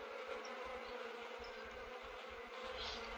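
Buzzing bees in The Sims 3 drone steadily and softly, a continuous insect hum with a faint pulsing texture underneath, heard alone without voices.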